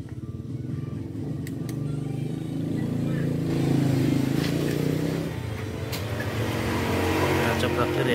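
A Honda Beat scooter engine with a bad misfiring, sputtering fault runs steady and close, its note rising a little with the throttle, while people talk over it.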